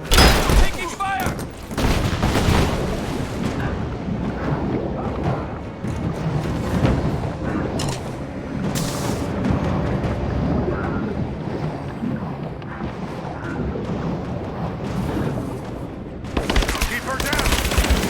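Gunfire rattles through a combat scene in Rise of the Tomb Raider, sustained bursts over wind and rumbling background noise, loud and near, with intermittent talk.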